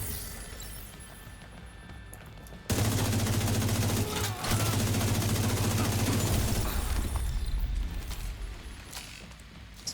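Sustained LMG fire in a Division 2 archetype fight, a dense loud burst of rapid shots running several seconds and then tapering off, with no talking.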